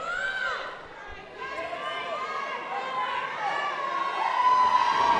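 Wrestling crowd at an Australian show chanting and cheering as a wrestler climbs to the top rope, a continuous loud roar that dips briefly and then swells toward the end, with a commentator talking over it.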